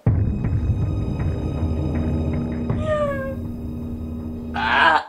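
A person imitating a cat's meow, giving a few rising, tonal meow calls over steady low background noise, followed by a brighter, harsher meow near the end.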